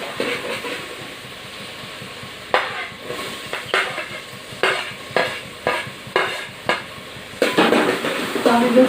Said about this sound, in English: Now we will saute the tomatoes